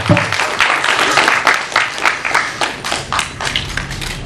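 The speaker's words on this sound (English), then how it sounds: "I just want to clap for him." Close, loud hand clapping in a steady run of claps for a young Kannada film director, with little else around it.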